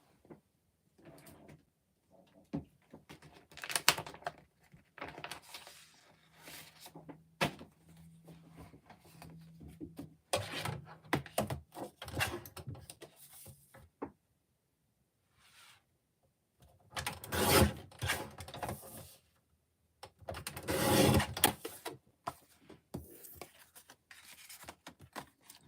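Card stock for a handmade thank-you card being cut, heard as bursts of mechanical sliding and clicking with quiet gaps between, close and moderately loud, no talking.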